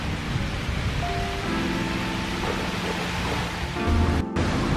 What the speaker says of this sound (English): It started raining. No rain forecast.